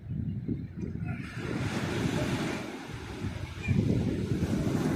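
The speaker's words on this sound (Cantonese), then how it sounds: "哇！ 啲浪 好密啊！" Ocean waves break in dense succession, a steady broadband wash of surf mixed with wind buffeting the microphone, swelling louder near the end.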